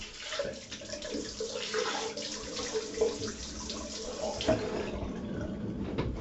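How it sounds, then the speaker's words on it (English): A quick rinse under running tap water during a pampering routine, a close, steady splashing flow with small irregular surges, moderately loud and heard alone. "bit of pampering, quick rinse"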